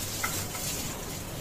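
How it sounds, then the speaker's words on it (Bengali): Fish frying in a pan in a home kitchen: a steady, close hiss of sizzling oil runs without a break through the short stretch, with no voices. "মাছটা এখানে ভাজা হচ্ছে"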